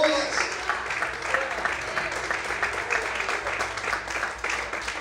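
A church congregation at a Portuguese-language worship service claps steadily and strongly throughout, a dense wash of many hands. Voices rise faintly within it.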